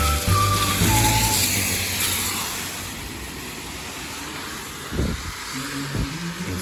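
Cars roll by on a rain-soaked street in a traditional city, engines humming and tires hissing through the wet surface. One loud, close pass at the start fades out, and a second vehicle surges briefly later on.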